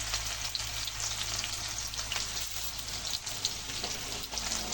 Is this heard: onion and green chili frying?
yes